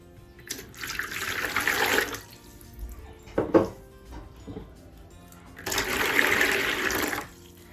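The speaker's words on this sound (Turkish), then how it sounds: "Şimdi ilk olarak karıştırma kabımın içerisine 2 su bardağı ılık su ekliyorum." Warm water pours from a glass into a mixing bowl for pizza dough, two steady splashing pours of about a second and a half each, separated by brief handling clatter, close by with no talk.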